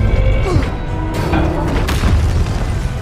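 A billboard crashes down onto a man in the film Madame Web, a heavy booming impact followed by crashing debris and rumbling layered in the film soundtrack.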